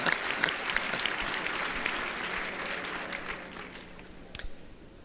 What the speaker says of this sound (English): Why don't you stand up for a round of applause?